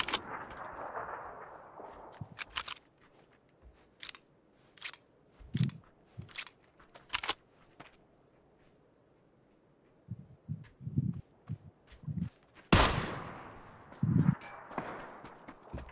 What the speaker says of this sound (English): At least I heard a shot come from that way.